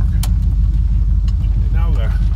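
Pickup truck with a check engine light on and a makeshift repair, its engine rumbling low and steady from inside the cab while driving, with someone talking over it.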